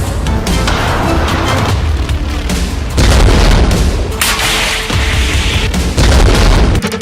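Heavy booming blasts from missile strikes in a Hezbollah attack on Israel, several loud, rumbling impacts in quick succession with crackling debris and rolling echoes between them.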